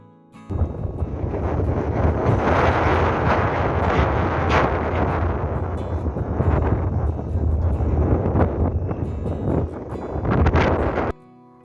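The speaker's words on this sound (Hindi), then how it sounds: "यहाँ पर बहुत तेज़ हवा चल रही थी" Strong wind roars into the microphone with rain falling around, a loud, continuous rumbling blast with gusty surges that cuts off abruptly at the end, in Coimbatore, India.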